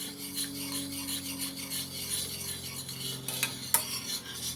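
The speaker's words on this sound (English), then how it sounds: "I'm using this beautiful whisk that my sister Maria had sent me" A hand whisk scrapes and rattles rhythmically against a bowl in a kitchen while making cinnamon buns, steady quick strokes at moderate volume over a low appliance hum, with a sharper clink near the end.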